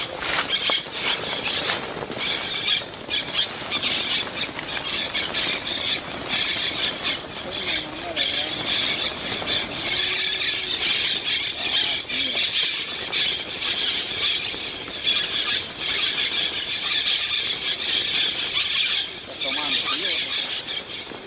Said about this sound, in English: Caged birds are released deep in the forest, filling the air with the sound of their freedom.